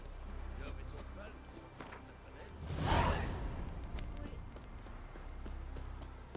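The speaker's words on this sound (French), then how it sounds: "C'est les courses de chevaux ça." Galloping hooves from a horse race in The Witcher video game, a rhythmic clip-clop swelling to a loud whooshing pass near the middle before fading, with a low game ambience around it.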